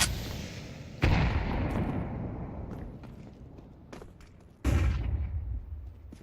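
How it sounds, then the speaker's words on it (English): Two loud grenade blasts in a competitive shooter video game, each a sudden heavy boom followed by a long rumbling decay, separated by a few seconds with scattered clicks and shots between. "Grenade."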